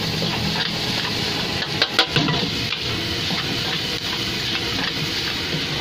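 Food frying at a busy warung food stall east of GKJ Ketandan in Mayungan, heard as a steady broadband sizzle and hiss throughout, with a few brief louder clatters near the middle and no talking.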